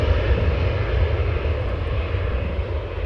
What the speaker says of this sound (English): This CRJ 900 SAS flight 556 outbound to Stockholm.